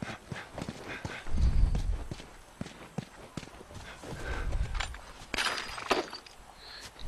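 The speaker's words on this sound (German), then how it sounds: "Hey, Elli, das Pferd blockiert mich" Rhythmic clip-clop of horse hooves at a walk in the video game The Last of Us, with snorting breaths and scattered knocks, fairly close against a faint background hum.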